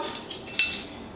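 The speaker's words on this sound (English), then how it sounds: "I'm just mixing up my dry ingredients right now" Dry ingredients for banana muffins being mixed in a bowl: a few light clinks and taps of a utensil against the bowl, ending in one sharper clink, close and fairly quiet with no voices.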